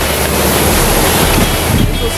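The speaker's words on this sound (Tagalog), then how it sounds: "So, napakalakas ng tubig dito." Loud, continuous rushing water roars close by at Sabang Falls in Puerto Princesa, a dense unbroken wash of noise with a voice faintly underneath.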